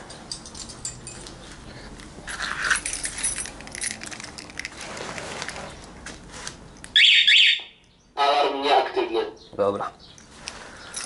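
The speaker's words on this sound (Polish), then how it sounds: "alarm mi się uzbroił przy zakładaniu akumulatora" Sharp electronic alarm chirps from a Kawasaki Vulcan 800 motorcycle being disarmed after battery fitting, a couple of loud piercing bursts amid handling clatter and rustling, close by.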